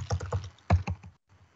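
Keys tapped on a computer keyboard in a short burst of several quick, uneven strokes, fairly close and clear, then falling quiet.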